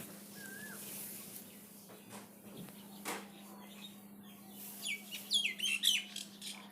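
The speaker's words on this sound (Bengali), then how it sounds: "চলেন আপনাদের আমি একটু পাখির কিচিরমিচির শোনাই" Birds chirp around a village house in rural Bangladesh, a faint mix of calls that builds into brighter, rapid chirps near the end over a steady low hum, with no talking.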